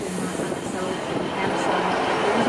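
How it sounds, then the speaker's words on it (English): A train pulls away with a steady, loud rumble and rising rail noise that swells slightly as it goes, while a person talks briefly over it. "And that's the train leaving."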